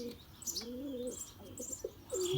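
Pigeons coo in a close, steady series of soft rolling calls, with a few higher chirps and faint wing flutters mixed in.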